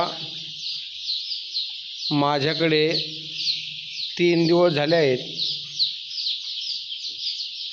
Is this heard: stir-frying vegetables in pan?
no